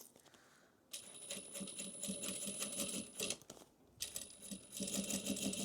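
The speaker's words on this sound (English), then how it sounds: "And sewing over that seam, so it's grabbing on where that tape is." A sewing machine stitches over a taped vinyl seam on a slouchy bucket bag in two rapid mechanical bursts, separated by a short pause, loud and close.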